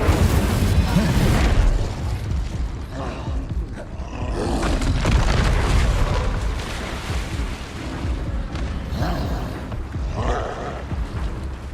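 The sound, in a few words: Incendio fire spell in Hogwarts Legacy video game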